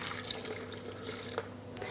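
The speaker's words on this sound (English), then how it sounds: "So if you take that juice and just pour it in." Homemade apple juice poured into a blender, a soft, steady liquid trickle running quietly for a couple of seconds with faint drips and small clinks.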